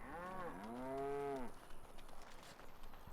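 Cows moo in the video game Dragon Age: Origins, giving one long drawn-out low moo that swells and fades over about a second and a half, then gives way to faint background ambience.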